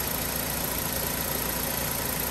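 A 2010 Kia Carens with a 1.6 engine and manual gearbox idles smoothly and steadily, a close, even mechanical hum with a faint rhythmic tick running without pause, no voices.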